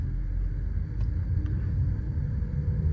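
A Mercedes-Benz C43 AMG Coupe in Sport Plus mode being driven, heard from inside as a steady, loud low engine rumble with constant road drone and no clear revs or shifts.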